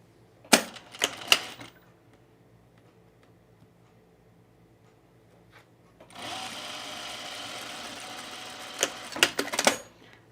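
A serger stitches the sleeve and underarm seam of a pullover camp shirt, running in a steady sustained burst after a few short clicks and handling knocks, with more brief clatter near the end.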